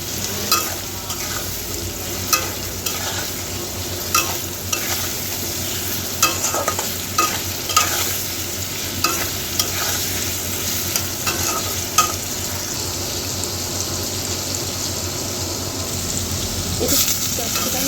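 Green chilies sizzle steadily in a pan of frying potatoes, with a continuous hiss broken by regular scraping knocks of the spatula as they are stirred, close and fairly loud.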